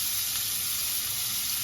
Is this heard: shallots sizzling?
yes